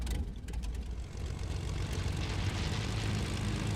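An airplane engine drones in the video game Fortnite, a loud, close, steady propeller roar with a low rumbling hum that holds throughout, with no talking.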